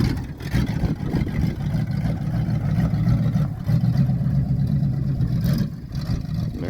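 The V8 engine of a 1972 Ford F100 pickup truck running, a loud close low rumble that rises and falls slightly as it revs.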